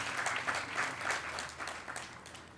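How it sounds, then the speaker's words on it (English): Audience applause at a fifth-grade girls' graduation ceremony, soft and fairly distant, a light patter of clapping with gentle swells. "now you can clap"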